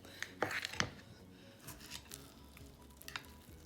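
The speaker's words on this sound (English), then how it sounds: "Let me cut it." A knife cutting through a keto breakfast frittata in a pan, with close, irregular scraping clicks and soft squishes, a few sharper taps, and no talking.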